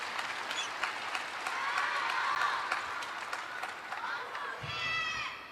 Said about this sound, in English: You can hear the crowd still shouting his name